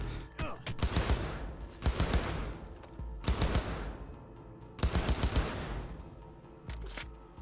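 Bursts of rapid automatic gunfire in Cyberpunk 2077, loud and close, firing in several long volleys separated by short pauses, with a couple of brief single shots between them.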